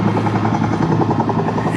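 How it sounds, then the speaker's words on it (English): Steady, loud helicopter rotor drone with a throbbing low beat, simulating a helicopter landing at a Vietnam-era fire base exhibit at Patriots Point, Charleston; it continues without break and no one talks over it. "That's simulating a helicopter's landing with wounded soldiers."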